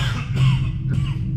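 Two short, rough coughs close by over a low steady hum.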